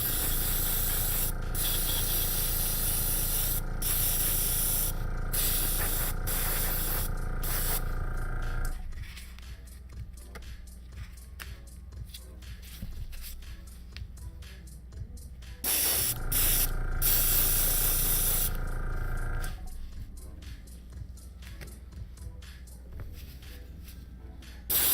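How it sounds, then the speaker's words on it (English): An airbrush sprays paint onto a 3D printed D.Va cosplay part in steady, close hissing bursts, with quieter gaps between long passes. "Airbrushing is so awesome."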